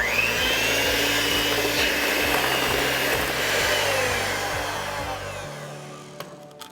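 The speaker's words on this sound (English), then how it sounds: "To our egg yolks, we're gonna add in sugar. And we're gonna beat this till it gets nice and pale." An electric hand mixer beats egg yolks with sugar for a flourless chocolate torte, a loud steady whir with a rhythmic knock of beaters against the bowl, then cutting off near the end.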